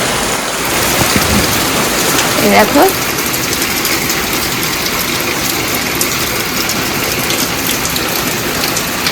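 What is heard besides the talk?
heavy rain pouring outside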